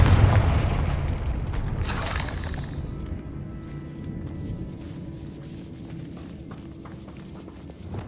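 In the Hogwarts Legacy video game, the Confringo fire spell hits with one heavy boom followed by a rushing burst, then the sound fades into a low ambient rumble with faint scattered clicks.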